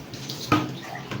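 Water runs and splashes while a pet dog is bathed, a close, moderately loud wash with a sharper splash midway and no talking.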